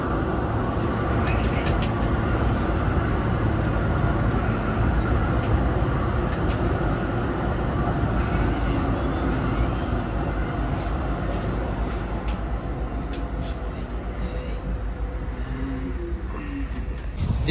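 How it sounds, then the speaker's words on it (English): A Z3 class tram on Melbourne's Route 67 Carnegie line rolls along a road with a continuous, even rumble and rattle of wheels and motors, steady and fairly loud throughout. "This is the Route 67 Carnegie tram."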